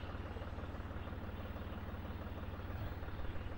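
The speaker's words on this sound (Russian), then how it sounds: "Естественно, что наш трактор больше ничего делать не будет," Tractor engine in the farming game Soviet Republic, a low steady diesel drone with a fast even pulse, quiet and continuous with no talk.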